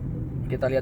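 A car passing on a narrow road, Jalan Sampora toward Parung Panjang, heard as a brief close low rumble that rises and fades, with someone talking over it.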